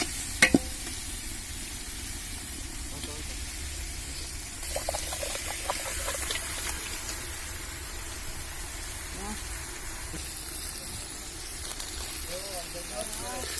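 Three kilograms of chicken fry with whole spices such as cardamom and cloves in a pot, a moderate steady sizzle with stirring clinks, close by and unbroken throughout.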